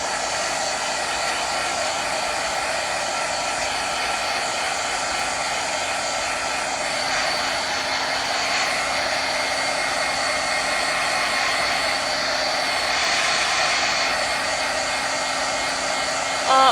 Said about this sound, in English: we'll hit this with a heat gun,